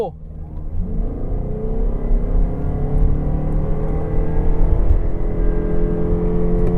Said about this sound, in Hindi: the engine doesn't feel that exciting when you give it the full beans